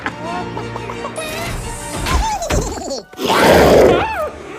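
Chicken clucking in a Minecraft movie scene, short bursts of fowl calls mixed with crashes, whacks and a loud swell of music and effects.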